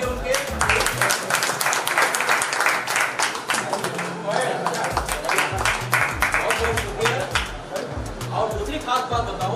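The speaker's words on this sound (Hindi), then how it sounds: "जोरदार तालियां बजा देंगे उनके।" Audience applause at a mushaira, an Urdu poetry gathering in Bhiwandi's Sanobar Hall, dense clapping filling the room steadily throughout, with voices talking over it.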